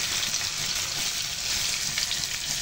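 Small dried anchovies (ikan bilis) fry in hot oil on their way to crispness, giving a steady, close, hissing crackle throughout with no talk.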